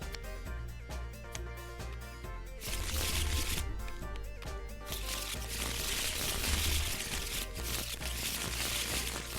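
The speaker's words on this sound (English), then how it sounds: "So let's shuffle these up." Cards shuffle in the Tabletop Simulator video game during a Superfight card game: a dense rustling, riffling burst that swells midway and holds over a faint steady musical background.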